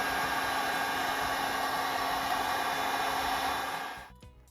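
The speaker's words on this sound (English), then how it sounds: "Trying to remove the sticker with a heat gun" A heat gun blows a steady, loud hiss of hot air against a sticker on a Kubota, running continuously before cutting off abruptly near the end.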